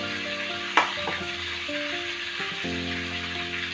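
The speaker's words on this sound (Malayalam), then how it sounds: "ഇനി ഇതിൻ്റെ മേലെ മസാലയൊക്കെ ഒന്ന് ഇട്ട് ഒരു 5 മിനിറ്റ് ഇതിലൊന്ന് ഫ്രൈ ചെയ്തെടുക്കാം" Chicken frying in masala inside a pressure cooker, a steady close sizzle with a sharp clink of a utensil early on and scraping stirring sounds throughout.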